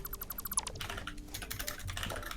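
Computer keyboard typing, a rapid run of quiet key clicks under a steady backdrop, close but faint, with no voices.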